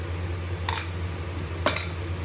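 While fish curry masala with roasted cumin and fennel powder is mixed in a pan, a utensil strikes the metal in two sharp clinks over a low steady hum.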